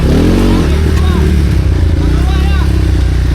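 A motorcycle with a weak battery sits idling on a trail, its engine chugging steadily and close by with light clatter, while a person talks over it.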